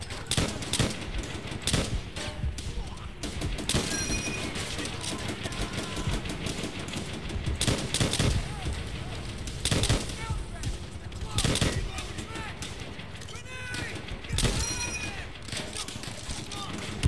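Dense gunfire in Call of Duty: World at War, rapid machine-gun bursts and single shots cracking almost nonstop, loud and close, with talking voices over the battle.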